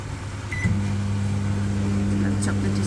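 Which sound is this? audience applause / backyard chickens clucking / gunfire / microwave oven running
microwave oven running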